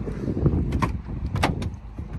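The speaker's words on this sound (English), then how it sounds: "And again, second sliding door." The sliding door of a Volkswagen Caddy Maxi van rolls and thuds shut, with a couple of quick latching clunks and rattles close by over a low background rumble.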